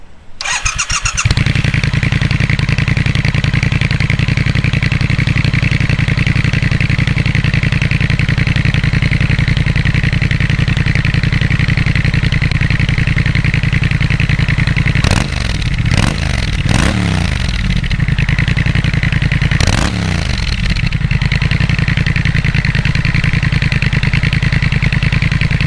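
A Triumph Speed Twin parallel-twin motorcycle engine idles loudly and steadily, close by, with a few brief revs near the end.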